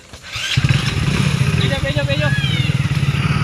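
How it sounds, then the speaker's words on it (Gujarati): A motorcycle starts up and keeps running with a steady, close, loud engine rumble and a brief rising rev, while someone speaks over it. "બાઈક કાઢો જલ્દી"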